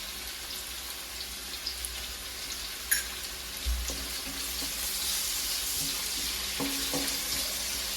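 Onions sauté in a pan for a pichinga (ridge gourd) dish, giving a soft, steady sizzle close by, with a few light utensil taps and scrapes and no talking.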